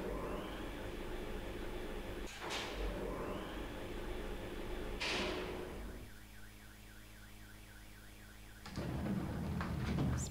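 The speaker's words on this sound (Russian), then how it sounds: "Спасибо, сигнализация от машины, которая орёт под окном." A car alarm blares outside beneath a window, cycling through repeated rising wails and then a warbling tone, fairly loud and continuous with no talking.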